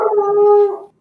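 A single eerie dog howl played as a sound effect during a tabletop role-playing session, loud and close, rising briefly then holding a steady tone for under a second before fading out.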